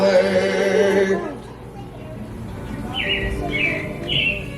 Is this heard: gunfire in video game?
no